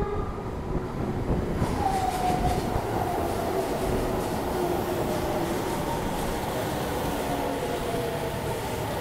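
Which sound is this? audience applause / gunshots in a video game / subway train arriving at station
subway train arriving at station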